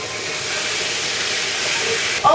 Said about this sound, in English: Always when you are searing a piece of meat, serve it side down first.